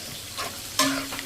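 Beef tripe sizzles in a pan while being stirred and fried, with a couple of brief scraping stirs over a steady hiss.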